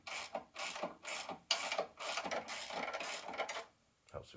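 Close, rapid ratcheting clicks from a spanner nipping up bolts on the independent rear suspension of a 1994 Jaguar XJS V12, in several bursts of a few strokes each with brief pauses, ending in a short quiet gap before a last click.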